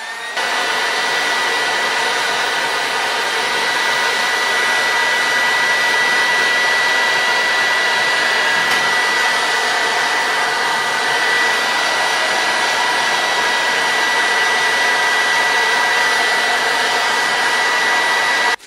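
A hair dryer roars in a steady, loud, unbroken blast for the whole stretch, drying freshly rinsed stonewashed knife parts in a workshop, with no talking over it.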